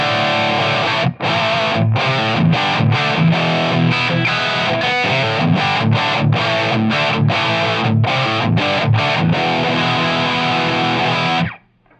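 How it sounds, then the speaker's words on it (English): Heavily overdriven Gibson Explorer electric guitar with 57 Classic Plus pickups, through a Tube Screamer into a Marshall amp, playing chunky, rhythmic chords with short stops between hits, loud and close, ending in a sudden cut to silence. "I have the guitar just going into a tube screamer, into a Marshall"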